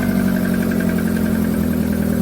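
A Kia New Morning car idles with a holed muffler leaking exhaust out the side, giving a steady, loud, rough low drone that runs continuously and evenly without any change in pitch.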